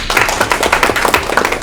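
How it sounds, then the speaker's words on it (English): An audience at a church conference session gives a round of applause, dense steady clapping that fills the room at close range with no talk over it. "Give him a round of applause."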